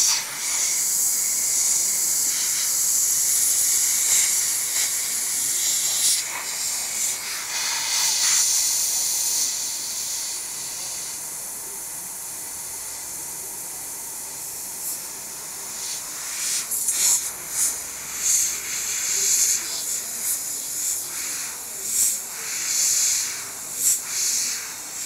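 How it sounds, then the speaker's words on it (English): An airbrush sprays paint in a long, steady close hiss that keeps going for a while, then breaks into shorter, controlled bursts with brief gaps as the fine spray is worked for a faded effect. "This is the advantage of this airbrush. You've got so much control. You can be very accurate with your spray."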